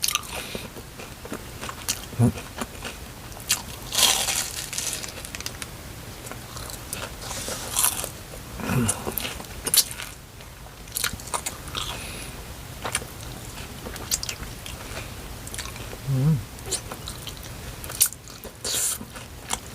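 Crunchy Korean fried cheese sausage being bitten and chewed close up, several sharp crisp crunches spaced a few seconds apart with softer wet chewing between them, with brief soft speech now and then.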